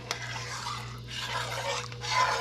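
A spoon scrapes and stirs through chicken and dumplings in a pot after water is added, giving soft rubbing swirls that rise and fall over a steady low hum, fairly quiet and close.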